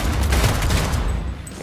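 Bursts of automatic gunfire from a Fenrir weapon in Cyberpunk 2077, a dense, loud, continuous rattle of shots with no pauses.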